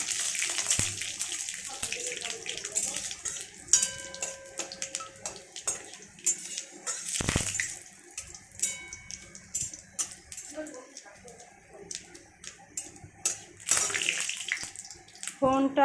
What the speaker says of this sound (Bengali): কড়াইয়ে তেলটাও গরম হয়ে গেছে, এর মধ্যে আমি সব ফোড়নগুলো দিয়ে দিলাম এক করে